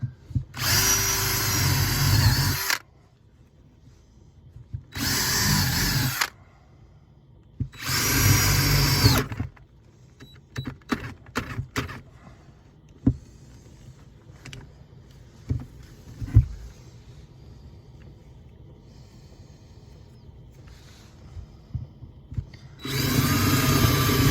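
A power drill bores through double-sided material inside a van in three loud bursts of a few seconds each, separated by quiet handling clicks and knocks, with a final burst at the end.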